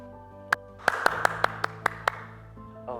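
A run of about eight sharp, evenly spaced hand claps, crisp and close, ringing over a steady sustained musical tone.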